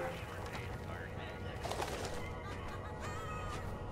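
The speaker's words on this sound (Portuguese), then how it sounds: "Papagaio aqui." A pirate parrot in Plants vs Zombies Garden Warfare 2 squawking and chirping in short bursts amid game sounds, with a player talking over it.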